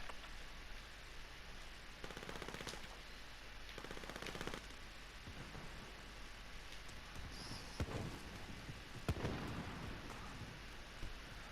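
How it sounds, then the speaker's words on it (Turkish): Distant gunfire in Call of Duty Warzone: bursts of automatic weapon fire and a few sharp shots, faint under a steady rain-like game ambience. "Şuradan bir silah sesi geldi sanki."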